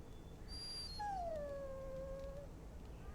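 A warhound in the video game Dragon Age: Origins lets out a drawn-out, wavering whimpering howl, clear and alone over quiet game ambience after a brief high tone.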